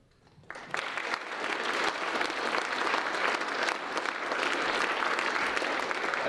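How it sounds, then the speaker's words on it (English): An awards-ceremony crowd at a high school football banquet breaks into sustained, loud applause for the team's coach, starting abruptly and building into dense, even clapping that fills the room. "A big round of applause to Coach Youngbauer."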